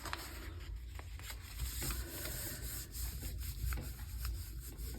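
Steady scratchy rubbing of paper pressed over a stencil print, continuous and close with slight rhythmic surges.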